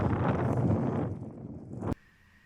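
Wind and snow gust over a mountain near a lake on the Kailash circuit, a loud rushing roar buffeting the microphone that builds and then abruptly drops away to near silence.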